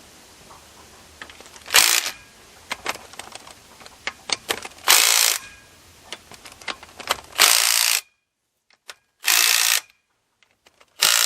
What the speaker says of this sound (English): you want to torque them down to about that much